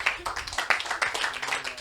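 Audience applause for the poet Rumaga at a small-venue show: dense, steady clapping from many hands fills the whole stretch, with a few sharper claps standing out.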